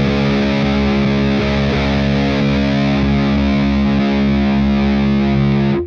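Distorted electric guitar run through a BOSS OC-5 octave pedal, holding a thick, dense sustained chord with a deep added lower octave, loud and steady throughout before cutting off at the end.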